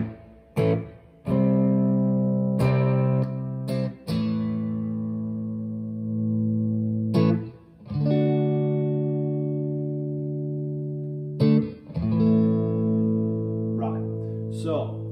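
Sustained electric guitar chords ring out clean through a Boss Katana 100 MKII 2x12 amplifier, with a soft reverb tail, struck several times with pauses between strums.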